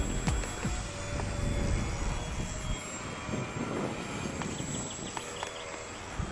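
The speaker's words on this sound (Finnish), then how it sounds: "Kone on lentänyt jo useamman minuutin." A Tensor 4D radio-controlled model airplane flies overhead on its first flight, its steady motor drone continuous and moderately loud throughout, with wind noise and low rumble underneath.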